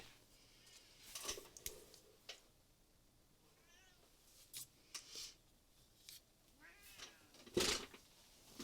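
Siamese cat meowing and complaining indoors, several faint drawn-out meows scattered among soft crafting noises such as scissors snips and paper handling, quiet and somewhat distant.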